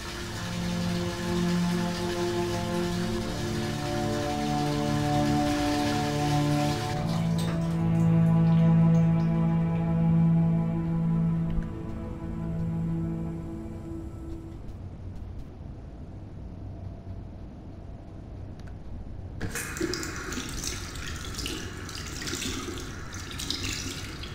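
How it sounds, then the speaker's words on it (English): A shower runs in the Indigo Prophecy video game, a steady hiss of falling water with a low tonal hum underneath that fades partway through before a brighter spray returns. "So he took a shower."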